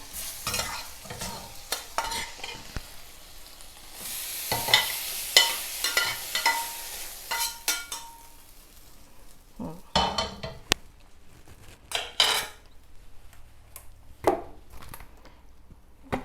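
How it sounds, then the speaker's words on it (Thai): Stir-fried pork belly being scooped out of a pan for a spicy red curry with eggplant, with clear scraping and stirring, sizzling frying, and clinks of a utensil against the pan; no one speaks. "เดี๋ยวเราตักพักไว้ก่อนค่ะ เราตักหมูพักไว้ก่อนนะคะ"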